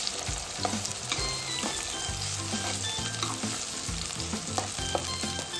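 Onions and green chillies fry steadily in hot oil for a Telugu-style fenugreek chicken curry, a loud, continuous sizzle with occasional crackles and light stirring, no voices.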